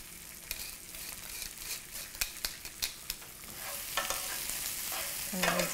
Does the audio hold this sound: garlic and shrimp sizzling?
yes